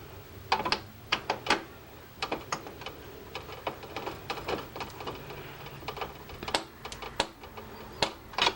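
Screws being unscrewed while a graphics card is fitted into a PC, a close series of quick ratcheting clicks and small metallic ticks in irregular bursts, with no talking.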